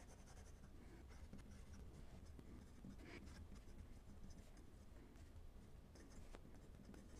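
A Sailor 1911 Realo fountain pen with a fine nib scratches across paper in short, irregular strokes, a faint, close, dry scratching that continues steadily with small pauses between marks.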